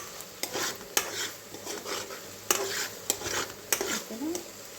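Peanuts frying in a pan for a Sankranti snack, stirred with a spoon that scrapes and clicks against the metal in irregular bursts over a light background sizzle.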